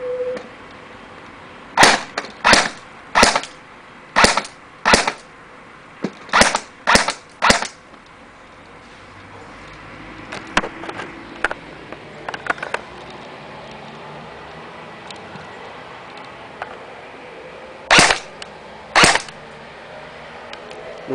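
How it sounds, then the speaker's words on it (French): A G36C airsoft gun fires semi-automatic shots, about a dozen sharp snapping cracks in quick irregular groups, then quieter handling clicks, and finally two more shots near the end. "là je suis en train de faire grimper les billes. Faire un test de tir en semi."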